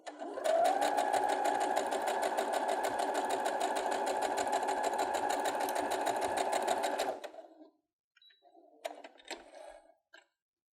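A sewing machine stitches a strip of fabric down a seam allowance on a Vogue Mondrian dress pattern, running slowly and steadily for about seven seconds before stopping, followed by a few faint handling clicks.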